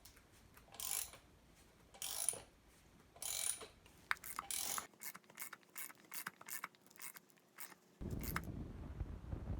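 Puller being cranked to draw a bearing race off a wheel hub, rhythmic ratcheting clicks and scraping strokes repeated in short bursts, close and fairly quiet, ending in a rougher rubbing noise.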